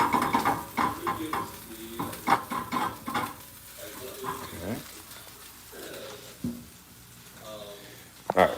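Steak frying in a pan that is still warm, with stirring and scraping of the pan and intermittent sizzling; a person talks throughout over the cooking noise.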